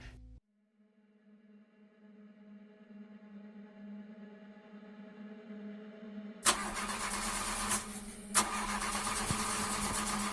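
A car engine cranks and catches, then idles with a steady low hum that grows slightly louder before a sudden loud rush of broadband noise with two sharp knocks takes over.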